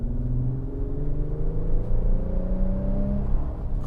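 A 2025 Infiniti QX80 Autograph pulling in manual mode from 2,000 RPM, a steady low engine drone with rising harmonic tones as revs climb, heard from inside the cabin without talk.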